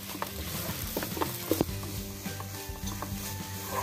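A masala filling for stuffed buns cooks in a pan as it is mixed, with soft sizzling under scrapes and light knocks of the spoon against the pan, close up and without speech.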